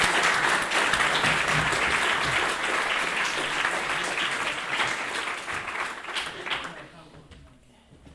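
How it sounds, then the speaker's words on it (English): An audience at a university philosophy society evening in Lund claps warmly to welcome a guest speaker. The thick, sustained applause from a full room gradually thins and fades toward the end. "a warm applause for him"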